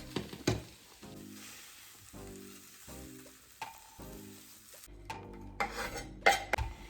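Pad thai sauce being stirred in a pan: a steady sizzle with repeated scraping strokes in a regular rhythm, then louder clattering of the utensil against the pan near the end.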